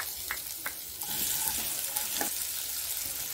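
Onions fried in hot oil for Gujarati-style dal dhokli, a close continuous sizzle with a few spoon scrapes and taps against the pan, no voices.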